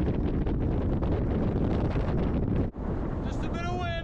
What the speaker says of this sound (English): Just a bit of wind.